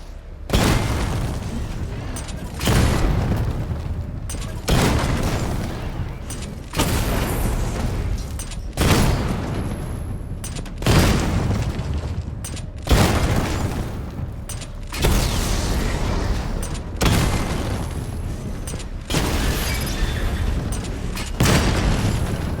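Missile barrage explosions in Batman Arkham Knight hit in a steady series of about ten heavy booms, evenly spaced every couple of seconds, each loud blast decaying into rumble before the next.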